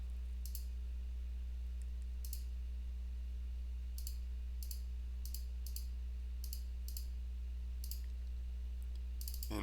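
A computer mouse clicks while a shape is traced in mapping software: sharp, isolated clicks, single and in pairs, spaced irregularly over a quiet steady hum with no voices.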